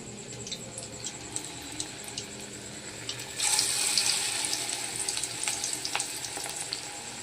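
Pieces dropped one by one into hot oil on a low gas flame fry with a steady, bright hiss, jumping to a louder, fuller sizzle midway as more go in, and no voices are heard.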